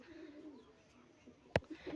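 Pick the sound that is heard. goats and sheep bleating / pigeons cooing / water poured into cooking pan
pigeons cooing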